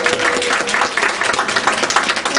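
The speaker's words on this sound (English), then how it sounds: "Let's give her a round of applause." A crowd of many hands claps steadily, a short burst of audience applause with a dense, even texture that stays close and loud throughout.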